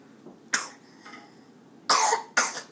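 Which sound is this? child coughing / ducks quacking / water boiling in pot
child coughing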